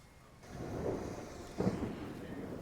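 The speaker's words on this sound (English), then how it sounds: "It's starting to rain." Outdoors at an airline event in Atlanta, distant thunder rumbles twice beneath a soft wash of rain and wind, faint and low.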